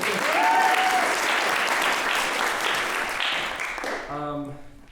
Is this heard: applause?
yes